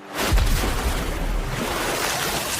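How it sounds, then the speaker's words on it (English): A magic water pillar bursting up in an anime scene, a sudden loud rushing whoosh that settles into a broad, sustained wash of splashing water. "Water pillar."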